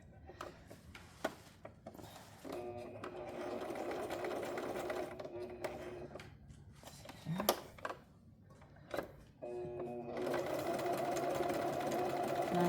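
A Baby Lock BL 1556 sewing machine stitches in a demonstration, with bursts of fast, steady mechanical whirring and ticking that start and stop, separated by quieter pauses and small clicks, close and clear.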